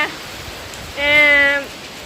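Heavy rain falls outside a house at night, making a constant, even hiss of pouring water throughout, while a voice speaks briefly over it.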